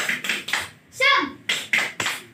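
Schoolchildren in a fifth-grade classroom do the rhythmic tepuk semangat clapping chant, with crisp bursts of group claps in a patterned beat and young voices calling out once in the middle.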